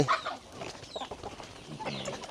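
Chickens cluck and chatter busily at feeding time on a farm where pigs are also being fed, the hens close and fairly quiet, with a few sharper calls among the steady clucking.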